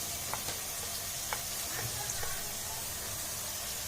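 Garlic and onion fry with spices in a pan, a continuous close sizzle with a few sharper crackles and pops scattered through it.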